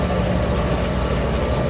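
A sailboat motoring south on its engine in rain with no wind: a continuous low engine drone, steady and close, with no other sounds rising above it.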